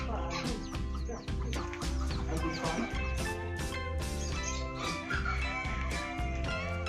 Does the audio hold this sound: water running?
no